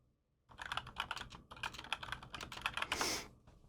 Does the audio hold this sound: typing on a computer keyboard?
yes